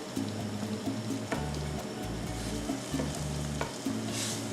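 A spoon stirs meat sauce for pasta Bolognese in a pan, with a soft sizzle of frying under repeated scraping strokes and a few sharper clinks against the pan, all up close.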